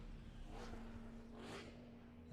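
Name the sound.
race car thundering past on circuit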